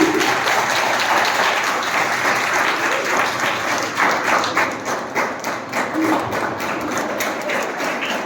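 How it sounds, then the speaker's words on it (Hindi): Dense, loud audience applause at a B.Ed college farewell, a continuous wash of many hands clapping that holds steady throughout, with faint voices mixed in. "तालियां बजाएंगी।"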